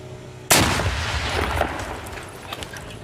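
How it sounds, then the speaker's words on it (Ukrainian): A single loud, sharp gunshot cracks out and decays into a rumbling echo, followed by faint scattered noises. "Постріл!"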